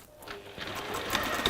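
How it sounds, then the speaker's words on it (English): A sewing machine stitching along the bottom edge of fabric, a quick close mechanical whirr of rapid needle strokes that speeds up briefly and carries on alone without talk. "I'm just going to sew along that bottom edge."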